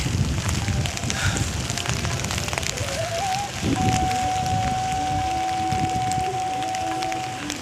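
Heavy rain in Kashmir on the Amarnath Yatra route, a dense, loud, continuous wash of rain noise pattering on surfaces close by, with a faint tonal whine running through part of it.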